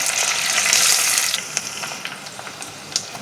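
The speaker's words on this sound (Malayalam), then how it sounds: "കരിയാപ്പില ഇട്ട് ഇനി അതൊന്ന് മൂത്ത് നടന്നേ നമുക്ക് വെയിറ്റ് ചെയ്യാം" Curry leaves crackle and sizzle in hot oil, a steady bright fry that is loudest at first, then eases into scattered sharp pops near the mic with no voices.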